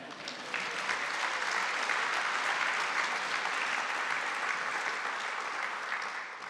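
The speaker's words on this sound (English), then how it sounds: "I can now pause for applause if you're still in the mood." A hall of delegates at the 2018 Conservative Party Conference applauds mid-speech, a broad, even roar of many hands clapping that stays constant for several seconds, slightly distant and unbroken by talk.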